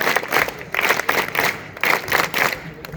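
Applause with crowd noise at a school gathering for sports and cultural events, following a song performed by two teachers; bursts of clapping swell and ebb over about three seconds, with a few voices mixed in.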